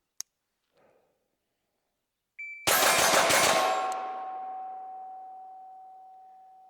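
Rapid string of pistol shots from a GP Arms Patriot 2011 outdoors, loud sharp cracks fired in quick succession, followed by a long ringing metallic ding from a steel target that slowly fades.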